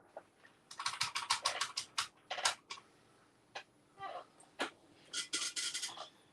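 Barcode digits typed on a computer keyboard in a scrapbooking class: rapid bursts of crisp key clicks, a fast run, short pauses, then another quick flurry, close and clear with no talking.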